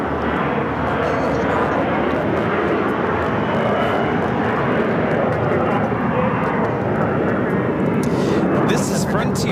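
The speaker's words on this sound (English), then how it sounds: "This is Frontier 1268 taking off to Salt Lake City on the A321 MAX, the Lynx livery." A Frontier Airbus A321 MAX in Lynx livery rolls and climbs out of LAX bound for Salt Lake City, a sustained loud jet roar filling the scene, with faint voices and a brief clatter near the end.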